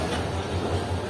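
Shah Latif Express train pulling out of a platform at Hyderabad Junction, a steady rumbling roar of moving railcars with rhythmic clatter, heard from on board.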